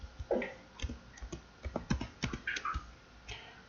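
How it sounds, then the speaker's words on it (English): Keystrokes on a computer keyboard come in irregular bursts of close clicks and taps with brief pauses between them, and no one speaks. "I'm typing this myself."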